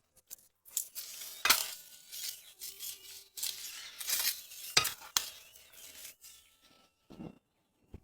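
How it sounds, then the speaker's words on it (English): Vegetables sizzle and crackle in a hot frying pan inside an RV during a blizzard, with bursts of clattering as utensils stir and scrape, fading to quiet near the end. "The vegetables meet their doom. To the fiery pan they go."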